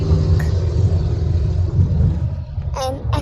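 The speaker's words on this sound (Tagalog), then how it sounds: "Big truck." A big truck passes on a road, a heavy low engine rumble holding steady and close throughout, with brief higher sounds near the end.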